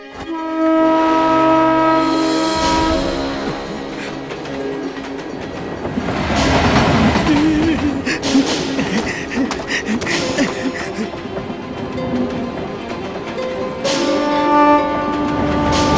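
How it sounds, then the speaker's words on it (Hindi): A train rolls nearby with rhythmic clatter and rumbling wheels, mixed with horn-like tones and swelling noise as it gets under way. "ट्रेन चल पड़ी।"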